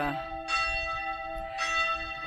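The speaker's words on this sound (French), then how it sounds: "comme vous entendez là, les cloches de l'abbaye de Sénanque" Church bells of Sénanque Abbey in the Luberon ring out, two clear resonant strikes about a second apart, their tones lingering and overlapping at a moderate distance.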